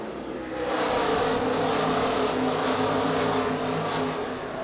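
NASCAR stock cars roar together at a restart at New Hampshire, a thick, loud wall of engine noise swelling as the pack accelerates and holds at full throttle.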